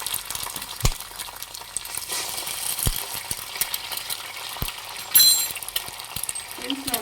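An egg fries in hot oil over a low flame, giving a steady soft sizzle with a few light clinks of a utensil against the pan.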